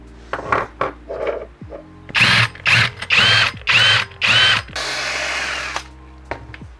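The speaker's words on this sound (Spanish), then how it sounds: "podemos hacerlo con una broca escalonada y parar justo cuando esté cuando lleguemos al diámetro del agujero" A step drill bit cuts a hole while fitting a solar shower to a camper van. It whirs in six short, loud bursts with pauses between, then runs in one longer continuous whine before stopping.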